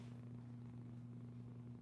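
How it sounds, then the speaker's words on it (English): A soft, steady low purr from a cat, continuous and close, with no other sounds. "she's purring"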